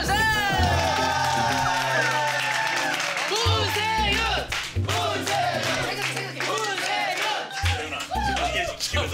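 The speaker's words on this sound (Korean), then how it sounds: "또 박수 한번 주세요." Studio audience applause on a Korean comedy variety show, loud and sustained, with crowd noise and cheering mixed under overlapping music and hosts talking over it throughout.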